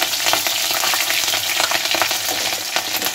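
Cumin, bay leaf and green chillies sizzle loudly in hot oil for chicken fry, a dense, close, crackling hiss that runs steadily with quick spattering bursts and no voices.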